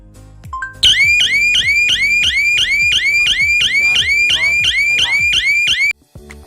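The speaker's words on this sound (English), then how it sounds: "Turn on alarm." A loud electronic alarm from an Arduino voice-controlled relay setup repeats a rapid rising chirp over and over in a steady rhythm for about five seconds, then cuts off.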